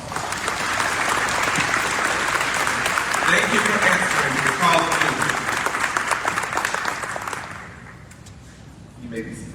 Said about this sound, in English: Cadets, let's give our heroes a big round of applause.